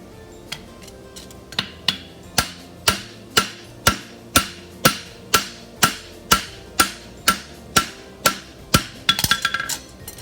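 Hammer flattening the front of a double dobber horseshoe on an anvil, about fifteen ringing blows in a steady, even rhythm, close and clear, ending in a quick flurry of lighter taps.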